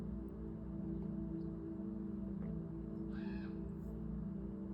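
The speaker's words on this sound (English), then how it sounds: "That was a crow or a raven or something." A single crow or raven gives one short caw partway through, faint and distant over a low steady indoor hum.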